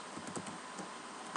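Rapid keystrokes on a computer keyboard while code is typed, a quick irregular clatter of soft clicks, close and fairly quiet, with no talking.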